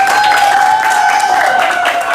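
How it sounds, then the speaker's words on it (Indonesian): Students in a classroom clap for themselves at the end of a lesson, a short, loud burst of applause with a steady tone sounding underneath. "Beri tepuk tangan untuk kalian semua."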